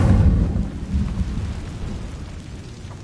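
A fiery Incendio spell cast in the Hogwarts Legacy video game lands as a loud, deep rumbling burst that rolls and slowly fades over a few seconds, with no talking.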